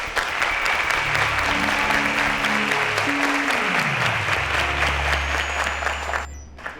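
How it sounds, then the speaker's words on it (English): Studio audience at a quiz show applauding contestants, steady dense clapping throughout with sustained musical tones and a descending sting underneath. "a round of applause to Najib and Zanna"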